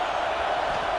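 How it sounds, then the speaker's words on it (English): A fired-up football crowd roars at Ohio State's stadium during a Bowling Green game, a steady, loud wash of cheering voices with no breaks or distinct peaks. "It's early, but this crowd is fired up. Listen to this noise here."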